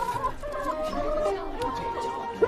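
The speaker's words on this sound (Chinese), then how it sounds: "这鸡怎么卖啊？ 公鸡50文，母鸡40文。" Roosters and hens clucking at a market stall selling chickens, a busy stream of clucks and calls heard near and steady throughout with faint voices in the background.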